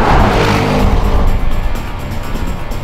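An Audi RS6 quattro with all-wheel drive is driven hard on a race track, its engine roaring loudly and close, easing slightly as it moves through the corners.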